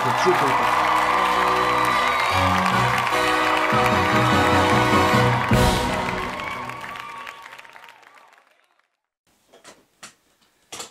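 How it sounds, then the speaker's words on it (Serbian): A large crowd applauds loudly with some whoops and cheers, then the clapping fades out, leaving a few scattered claps at the end. "molim vas da ih još jednom pozdravite gromoglasnim aplauzom"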